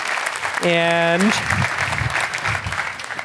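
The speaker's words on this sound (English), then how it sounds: "Thank you for giving that big round of applause" Audience applause at a startup pitch festival rolls on in the background while a voice speaks over it and a brief sustained tone sounds near the start.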